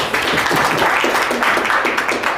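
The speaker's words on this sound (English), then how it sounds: "Round of applause for Darren" Loud, steady round of applause from a room of trainees at a sales training session, dense clapping filling the whole moment with faint voices mixed in.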